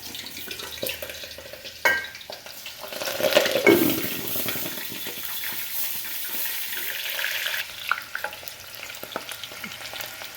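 Salmon pieces frying in hot oil in a skillet under a splatter screen, a steady crackling sizzle that swells after the fish goes in and keeps hissing throughout, with light stirring clinks and no talk.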